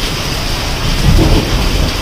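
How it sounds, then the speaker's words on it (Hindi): Heavy rain pours steadily with a low rumble of thunder swelling midway, no voices. "कितनी ज़्यादा तेज़ बारिश हो रही है"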